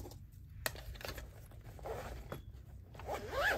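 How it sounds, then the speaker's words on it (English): A zipper is pulled shut on a soft travel art bag packed with graphite pencils and fine liners, giving several short close scraping runs with small tugs and a brief tap, ending in a longer rasping zip. "And zip that guy."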